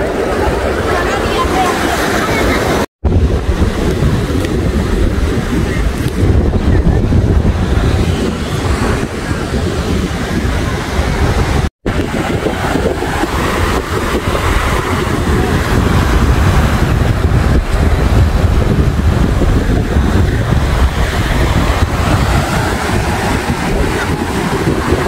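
Sea waves and strong wind at the shore of El Médano, Tenerife, with the tide rising; loud continuous rushing surf and buffeting wind noise, briefly cut by two dropouts, no clear talk.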